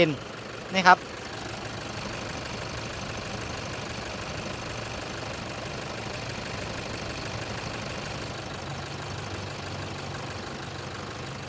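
A Toyota Hilux Vigo 3.0 VN Turbo diesel from 2011, manual gearbox, idles steadily at close range, a low continuous rumble with a brief knock or clatter near the start.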